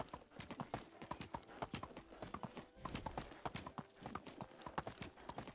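Steady clip-clop of horse hooves at a riding pace in the medieval village game Medieval Dynasty, rhythmic and close, with no talking over it.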